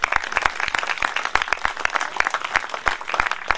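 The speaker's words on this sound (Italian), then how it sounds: "quest'anno glielo dobbiamo fare un applauso" An audience at a youth writing contest in Maratea breaks into applause, many sharp individual claps close by, lively and uneven, building into a continuous ovation.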